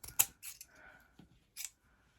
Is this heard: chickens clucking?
no